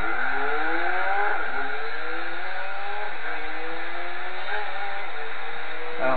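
A Nissan 350Z race car in Gran Turismo 4 accelerates hard through rising engine notes, revving up and shifting repeatedly, with a brief tire squeal in the loud, continuous game audio.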